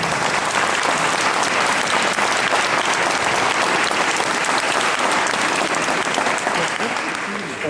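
Audience at a Christmas concert with a Santa visit applauds in a dense, steady ovation that fills the whole stretch and eases slightly at the very end.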